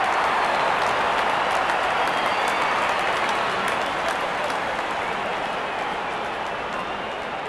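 A large stadium crowd roars and applauds after a six is hit in a cricket match between SRH and LSG, a dense, steady wash of cheering and clapping that stays loud throughout with no voices standing out.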